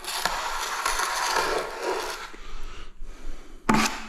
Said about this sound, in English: Always scrape away your glue.